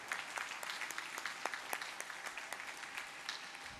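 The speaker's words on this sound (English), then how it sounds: "please put your hands together for Peter Upton." A crowd at an outdoor gathering claps in a modest round of applause, individual hand claps standing out sharply over a softer, fairly distant bed of clapping.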